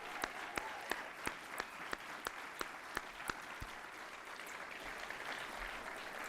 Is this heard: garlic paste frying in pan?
no